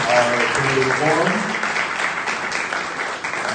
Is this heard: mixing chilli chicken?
no